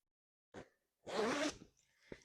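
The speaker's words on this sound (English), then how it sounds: "so that you can unzip it" A separating zipper along the top of a large fabric project bag for knitting and sewing is pulled open in one steady, close rasping run, with a brief zip tick before it and a soft rustle after.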